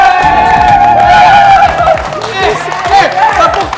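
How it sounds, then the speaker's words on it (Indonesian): A lively crowd claps and cheers with whoops at a dance audition, loud and close, with voices and music-like tones mixed into the noise. "Tepuk tangannya paling meriah lagi guys"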